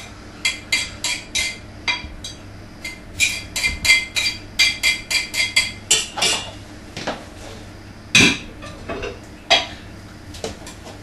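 Chopped mushrooms tipped into a sauce in a pan, giving a run of sharp clinks and knocks of utensil on cookware in irregular bursts, close and fairly loud, with no talking.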